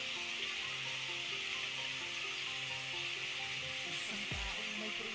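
Dried fish (tuyo) sizzles in a hot pan with a steady, faint frying hiss and crackle, while soft tonal background sounds run underneath and a brief low thump lands near the end.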